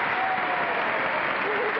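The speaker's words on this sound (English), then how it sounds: "the audience applauded" A studio audience at a 1960 television game show applauds, a dense, even wash of clapping heard clearly throughout, from a fairly close crowd.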